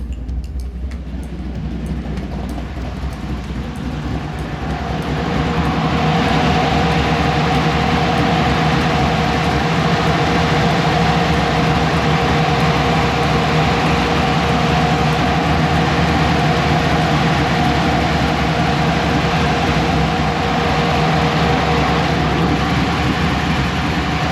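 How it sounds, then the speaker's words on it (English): A van engine idles steadily at operating temperature during a transmission cooler test, a loud constant rumble with a droning hum that swells slightly after the first few seconds and then holds even, with no talk. "got it up to temperature, let it just sit and idle"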